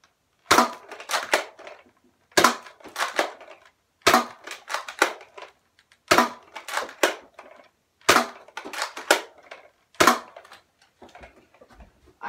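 A Nerf Disruptor blaster fires foam darts in six evenly spaced rounds, each a sharp loud snap followed by clattering priming and reloading clicks, with quiet gaps between shots.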